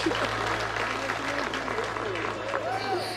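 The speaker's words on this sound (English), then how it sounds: "Big round of applause." Restaurant dining room audience applauding after a marriage proposal, a steady wash of clapping throughout with hum underneath and voices calling out over it.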